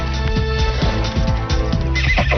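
A stallion neighs loudly and repeatedly during a wild horse fight, with shrill, wavering whinnies stacked close together over dull hoof clops and scuffling throughout.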